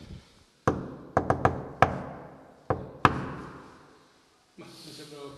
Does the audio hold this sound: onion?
no